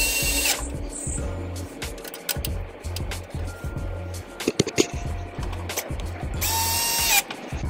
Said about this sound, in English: this Phillips head screw was stripped a little bit, but still plenty of torque to get it in there.